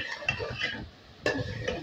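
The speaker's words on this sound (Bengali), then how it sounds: "সুন্দর করে চিকেনগুলো মশলার সঙ্গে যেন মাখা মাখা ভাব হয়ে যায় এমন পর্যায়ে নেড়ে নিলাম" Chicken pieces being stirred and tossed with spices in a pan, a spoon scraping and clinking against the metal in short irregular strokes, with a light sizzle underneath.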